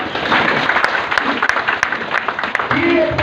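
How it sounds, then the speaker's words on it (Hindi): A crowd claps in steady, moderately loud applause, with scattered voices audible underneath. "ये जोरदार ताली कोई बजाइए।"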